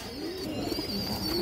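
Two female pigeons coo softly close by, a brief low throaty murmur with a faint high tone in the background.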